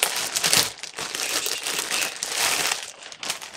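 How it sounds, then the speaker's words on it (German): Packaging for a set of Disney Ariel ears ordered from AliExpress is unwrapped up close, with continuous crinkling and rustling of plastic wrap over a few seconds. "Muss ich erstmal auspacken."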